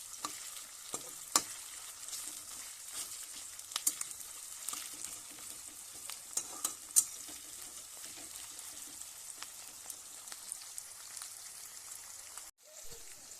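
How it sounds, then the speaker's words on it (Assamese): Sliced onions and green chillies frying in a pan while being stirred, a faint continuous sizzle with scattered light crackles and spatula taps, quiet and close with no talk. "আকৌ এতিয়া লৰাই দিম অকমান। পিয়াজটো সিজালৈকে আৰু লৰাই থাকিম ধুনীয়াকৈ।"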